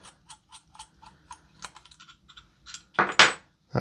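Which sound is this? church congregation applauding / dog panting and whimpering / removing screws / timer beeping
removing screws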